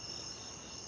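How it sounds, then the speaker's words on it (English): Crickets chirp steadily at night outside row houses, a constant high shrill trill that stays faint and even throughout. "you can hear the crickets and the planes"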